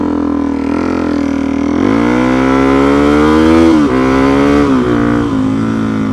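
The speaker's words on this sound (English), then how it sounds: "it's nice to be able to hear the bike as it should sound" A motorbike engine runs steadily close by, loud and droning with a rich, buzzing tone that rises partway through and then holds with slight wavering, no talking over it.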